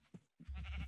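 A Minecraft sheep gives a brief, quiet bleat on its own, followed by a low rumbling game noise.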